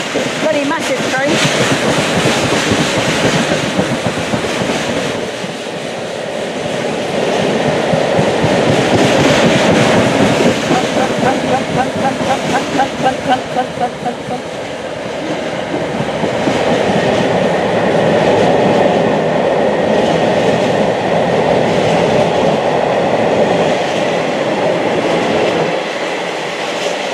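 Class 66 diesel-hauled freight train rolling past at Water Orton, a long steady rumble with rhythmic clickety-clack of wagon wheels over rail joints, loud and close throughout, with occasional voices from trackside watchers.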